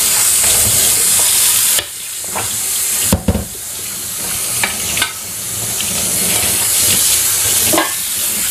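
Rice fried in a Teflon pan, a steady loud sizzle with stirring scrapes and a few sharp knocks of the utensil against the pan, no voices.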